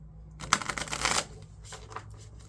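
A tarot deck is shuffled in a quick riffling burst, close and crisp, followed by a few softer flicks as the deck settles.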